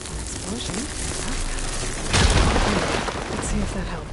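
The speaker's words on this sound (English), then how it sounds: "Explosion." A deep boom from an explosion in the video game Horizon Forbidden West rumbles up midway over a busy game soundscape, with a voice speaking before it.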